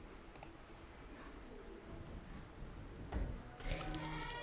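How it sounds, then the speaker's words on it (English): Computer mouse clicks while navigating a Shopify admin dashboard: a few sharp, quiet clicks spaced apart over low room noise, with no talking. "click on Online Store. And here click on Customize."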